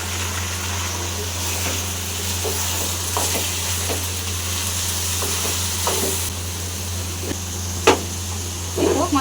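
Meat goes into a pan of fried spice paste over full heat, giving a steady close sizzle with occasional stirring scrapes and clicks.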